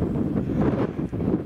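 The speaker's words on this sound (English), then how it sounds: "Hear the wind? The wind has arrived." Strong wind buffets the microphone at a wild campsite in Scotland, a loud, continuous rumbling gust with no pause.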